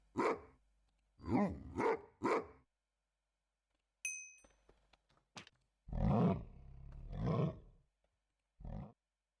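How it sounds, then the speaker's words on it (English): Polar bear roars from a video game, several deep rough bursts in succession with a brief bright chime partway through, close and loud against silence, no talking. "You do this as like fucking like polar bear sounds."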